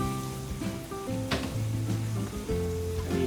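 Beef browns in a pot for caldo de res, giving a continuous crackling sizzle at close range. It runs steadily under sustained tonal background sounds, with a brief louder clatter partway through.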